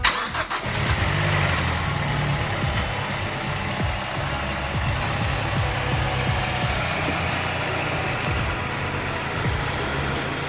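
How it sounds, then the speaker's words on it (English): A 2007 Mazdaspeed engine cranks and catches, then settles into a steady, rumbling idle that carries on for several seconds, loud and close, with no voices. "We're gonna start it up here with the hood,"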